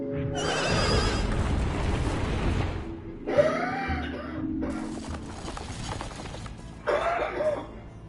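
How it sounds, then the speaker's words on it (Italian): Horse neighing in the Tomb Raider Remastered video game, several loud whinnying calls in separate bursts over a dense background of game sound, fairly close, with no talking. "Ci voleva il cavallo adesso?"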